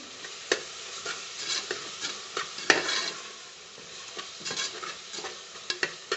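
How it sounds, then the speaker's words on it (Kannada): Tomato bath ingredients with turmeric powder being mixed in a pot, a spoon scraping and clinking in irregular strokes over a faint sizzle, moderately close with no talking. "ಇದನ್ನು ಚೆನ್ನಾಗಿ ಮಿಕ್ಸ್ ಮಾಡ್ಕೋಬೇಕು"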